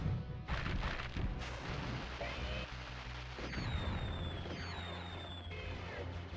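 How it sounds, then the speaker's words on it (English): Bombs in Spyro 2: Ripto's Rage go off in a few heavy booming thuds amid busy game effects, followed by rising whistling tones and continued rumble. "don't like these bombs"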